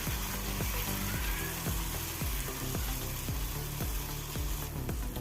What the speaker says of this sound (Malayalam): നെയ്യ് ഒഴിച്ച് കൊടുത്ത് അതുപോലെ ഒരു സ്പൂണ് മാവും ഒഴിച്ചു കൊടുത്ത്